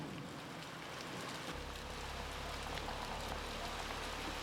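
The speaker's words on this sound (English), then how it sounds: "election day started with a massive monsoon storm" A heavy monsoon rainstorm on election day in Cambodia hisses in a steady, dense wash of falling rain, with a low rumble joining partway through and no voices.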